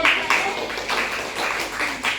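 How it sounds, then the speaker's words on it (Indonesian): Students applauding in an Indonesian classroom, a group clapping in a quick, steady, fairly even rhythm at moderate loudness, with no voices over it. "Beri tepuk tangan yang"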